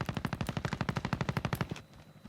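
Rapid automatic gunfire from a light machine gun in a video game, a loud, steady burst of about twenty evenly spaced shots lasting under two seconds, then stopping abruptly.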